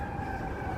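Emergency vehicle sirens on Michigan Avenue in downtown Chicago at midday, a steady, moderately distant wail over rumbling street and traffic noise.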